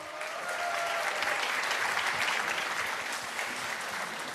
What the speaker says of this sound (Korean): 여러분 수고하신 공연팀에 다시 한번 큰 박수 보내주십시오.